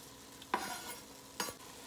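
Green onions tossed into a pot of one-pot chicken with basmati rice and red kidney beans, two quick stirring scrapes over a faint sizzle, close and with no talking.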